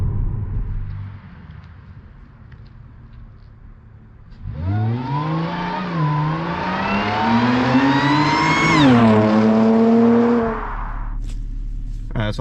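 An Audi A7 with the 3.0T engine, a gas intake and a muffler delete, heard from outside as it idles, then revs up in one long rising, loud sweep that peaks and drops back to idle.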